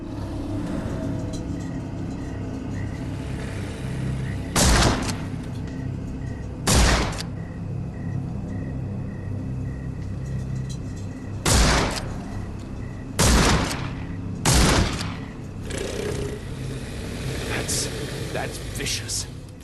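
Rifle shots in Sherlock Holmes: The Awakened, fired to cut ropes in an alligator swamp: five sharp, loud cracks spaced a few seconds apart over a low ambient rumble.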